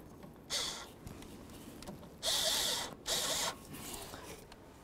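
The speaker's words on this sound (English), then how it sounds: "It's always a good idea to use a socket on these type of clamps to make sure that they're tight." Three short bursts of ratcheting from a socket ratchet snugging a new radiator hose clamp on a 2007-14 Ford Edge, the second and third longest and loudest, close by over a quiet background.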